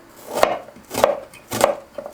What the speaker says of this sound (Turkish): Soğanımı doğrayarak başlıyorum.